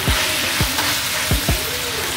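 Minced keema meat added to a hot pan of cooking vegetables, producing a loud, continuous close sizzle with a few soft spoon thumps as it is stirred.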